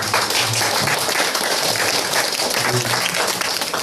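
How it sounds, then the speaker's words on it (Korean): A church congregation gives warm, hearty applause to welcome a guest, steady and full clapping sustained throughout without pause. "우리 뜨겁게 박수로 환영해 주시면 감사합니다"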